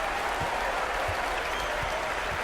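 A large arena crowd in the NBA 2K23 basketball game roars and applauds in a dense, continuous wash of cheering, loud and steady throughout.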